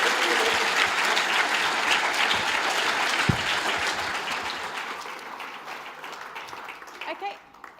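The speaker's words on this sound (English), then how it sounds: "Give him another round of applause," Audience at an apprenticeship awards ceremony giving a round of applause, dense clapping that gradually thins and fades out, with a voice speaking as it dies away.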